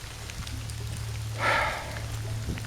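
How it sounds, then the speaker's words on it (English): Steady rain falling outdoors, a soft continuous patter with a brief louder burst of spatter midway, no talking. "Just filming in the rain."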